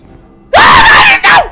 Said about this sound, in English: God, why do I scream so loud?